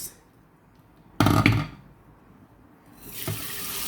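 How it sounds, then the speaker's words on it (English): Tap water runs into a sink in two bursts while rice is washed for cooking, first a short loud splash, then a quieter pause, then a steadier rising flow. "As I wash it, I normally wash my rice twice."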